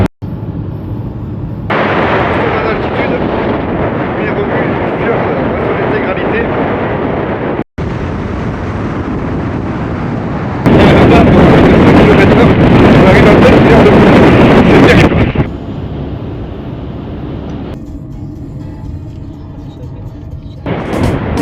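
Strong wind batters the microphone in the western fjords of Iceland near Holmavik, a loud rough roar that runs almost continuously, breaks off briefly and then surges harder before easing slightly.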